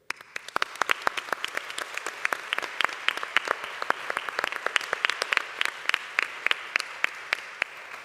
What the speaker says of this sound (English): please a big applause for them